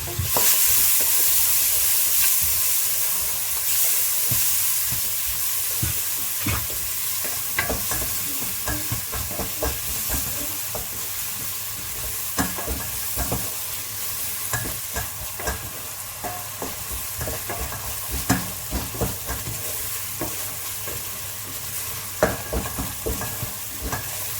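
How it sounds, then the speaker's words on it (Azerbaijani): Onions fry and sizzle steadily in a pan while a spoon stirs them, scraping and clacking in irregular strokes over a constant hiss that lasts throughout, with no talking. "Qarışdırırıq."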